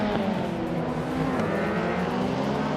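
Race cars driving flat out, a 2012 Ford Focus RS and a 2018 BMW M220 among the field, with a loud, steady, unbroken engine drone that holds close throughout.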